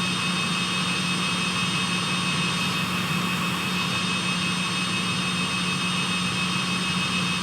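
A small aircraft engine winds down after shutdown, a steady loud whine and hum that holds fairly even throughout, with no voices.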